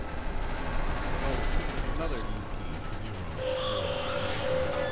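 Steady gunfire in a multiplayer video game, a dense, continuous rattle of shots and impacts under people talking and shouting.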